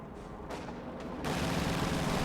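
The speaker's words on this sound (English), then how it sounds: "Grenadiers softening up the infantry right there." Grenadiers firing on infantry in a World War II strategy video game, rattling gunfire and blasts that swell into a dense, loud barrage after a couple of sharp bursts, no talk.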